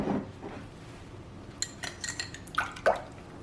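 Beaten egg is poured into wet cake ingredients in a bowl, a soft, brief pour followed by light clinks and drips, close and fairly quiet.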